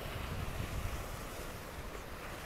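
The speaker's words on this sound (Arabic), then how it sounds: "وشوفوا البحر كيعامر" Rough December sea surges against a Moroccan shore, a loud continuous roar of waves with heavy wind buffeting the microphone and no voices.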